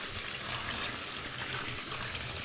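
Tap water runs steadily as produce soaks and is washed in a kitchen sink, a continuous close splashing rush with no pauses.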